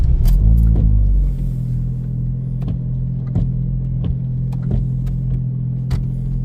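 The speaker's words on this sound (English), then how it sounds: "This is my Honda Civic that I've modified myself" A self-modified Honda Civic on a morning drive makes a steady, loud low engine drone from inside the car, louder at the start, with light ticks and clicks scattered over the hum.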